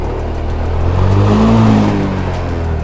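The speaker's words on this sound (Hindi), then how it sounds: "जैसे ही मैं व्हीकल स्टार्ट करूंगा और थोड़ा सा एक्सेलरेट करूंगा" A seven-year-old TVS Jupiter scooter with about 40,000 km idles close by and then revs briefly, the engine note swelling in the middle before settling back to a steady hum.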